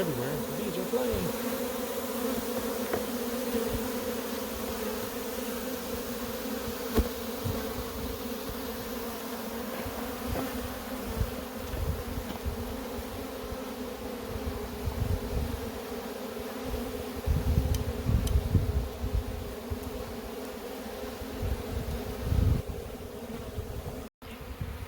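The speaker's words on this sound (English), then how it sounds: "bees are flying" Steady, droning buzz of many honey bees flying around nearby a hive, continuous throughout, with some rustling and handling noise and no speech.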